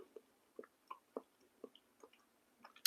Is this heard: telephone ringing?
no